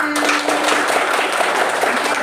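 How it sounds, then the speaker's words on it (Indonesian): A classroom of students claps together on the teacher's cue before a morning math lesson, a brief burst of many hands clapping at close range. "Oke, tepuk tangan semuanya."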